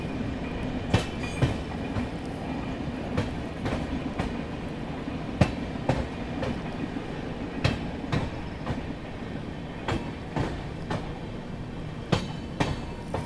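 The Mumbai Rajdhani Express crosses the Khajuraho Udaipur Intercity Express on the rails, with a steady loud rumble and rhythmic clickety-clack of wheels over rail joints that continues throughout.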